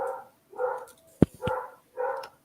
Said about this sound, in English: my dog's distracting me. He's barking right now.